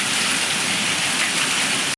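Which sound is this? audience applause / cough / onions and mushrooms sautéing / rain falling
rain falling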